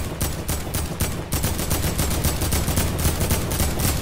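Rapid gunfire from a squad-based shooter video game, dense repeated shots running steadily throughout at close range, with no talk over it.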